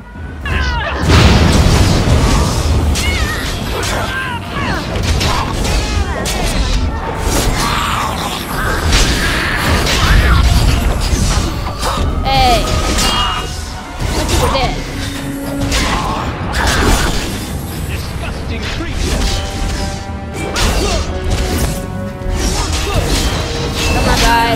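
Bombs going off in a Dragon Age Origins battle, with heavy booms and crashing impacts repeated throughout amid chaotic combat sounds and a voice in the mix.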